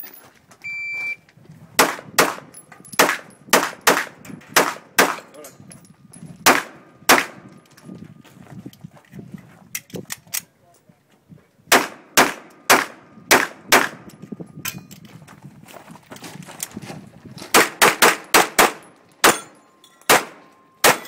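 Rapid gunfire at a 3-gun shooting match, sharp cracks coming in fast strings with bursts and pauses, some rounds ringing off steel targets, loud and close with no talk over it.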